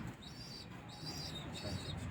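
Pigeons from a Rawalpindi fancier's flock, birds of a Lahore bloodline, give three repeated coos, each a soft rising and falling call, over a steady low background rumble.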